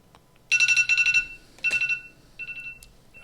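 A phone alarm ringtone goes off in loud bursts of rapid electronic beeping, several quick pulsed groups followed by a shorter, quieter burst, close by with no talking during it.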